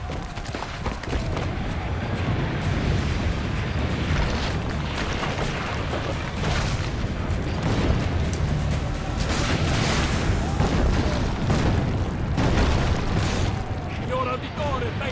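Cannon fire and explosions in the video game Assassin's Creed: Brotherhood, a dense, continuous barrage of booms and blasts under game voices and a player talking.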